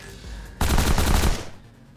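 A medium turret in the video game The Pit fires high-explosive ammunition in one rapid, loud automatic burst lasting under a second, followed by a fading tail.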